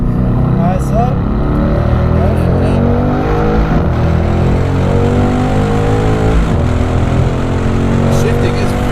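A 2019 Mercedes-AMG C63 S with its nine-speed dual-clutch gearbox roars loudly on a track lap, engine pitch climbing repeatedly with quick gear shifts, continuous and close throughout.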